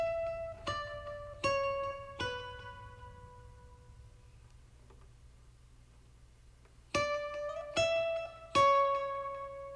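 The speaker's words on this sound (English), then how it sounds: "on this one I added on a lot more reverb and some delay to it" A lofi-beat guitar drenched in heavy reverb and delay picks short runs of notes that ring out and trail away into soft echoes, with a quiet gap in the middle before more plucked notes return.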